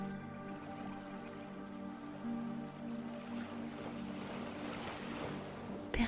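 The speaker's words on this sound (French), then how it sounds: "Laissez-vous bercer par le doux mouvement de l'eau." Gentle moving water laps and washes steadily around a boat, a soft continuous swell with a low steady hum beneath, calm and unbroken throughout.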